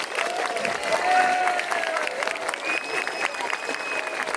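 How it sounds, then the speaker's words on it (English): An outdoor crowd at a village Christmas lights switch-on applauds the St Bart's Choir, giving a steady wash of clapping with a few cheers mixed in. "give a big round of applause to the St Bart's Choir"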